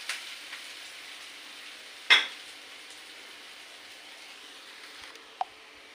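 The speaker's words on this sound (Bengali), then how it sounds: "পেঁয়াজগুলো লাল লাল করে ভাজি করে নিয়েছি" Onions fry in a pan until reddish, giving a faint, steady sizzle with a sharp utensil clink partway through and another small tap near the end.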